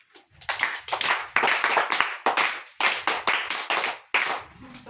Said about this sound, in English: If you are all right, clap your hands